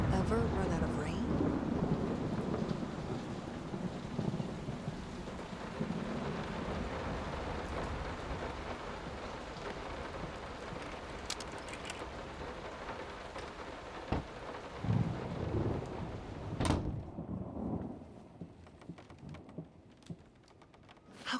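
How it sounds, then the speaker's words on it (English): Steady rain with thunder rumbling through a stormy night in the horror game Layers of Fear; continuous dense downpour with a few sharp crackles and low booms, easing and thinning toward the end. "Will this storm ever run out of rain?"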